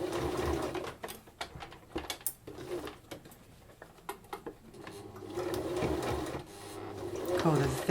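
A sewing machine top stitches a strap on a baby apron in short rattling bursts, fast mechanical needle chatter starting and stopping, close up, while someone talks over it.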